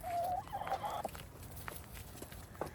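Backyard chickens in an Australian garden coop give a few quick, faint clucks and calls near the start, then sparse soft sounds over low background noise.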